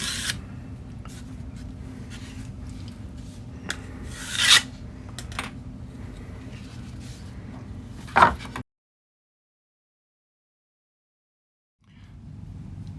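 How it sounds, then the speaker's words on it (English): A wooden guitar fretboard being sanded by hand, steady raspy rubbing strokes with a few louder scrapes, then a pause of silence before the sanding resumes. "Besides a lot of sanding."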